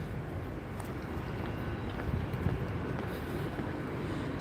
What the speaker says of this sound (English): Here's the Great Western Railway train.